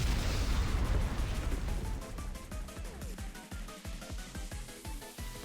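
Cannon fire in the Blue Archive video game: a heavy booming blast up front, then a rapid series of sharp shots and impacts that continue at a steady pace.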